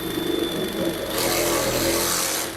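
A Procraft RS20A cordless reciprocating saw runs up as it cuts, its motor hum rising to a steady, loud buzzing whir about a second in and holding until it eases off at the end.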